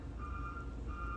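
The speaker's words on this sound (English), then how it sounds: "That's the garbage truck." A garbage truck's reversing alarm beeps in two long, steady tones at moderate distance outdoors, faint but clear over a low background hum.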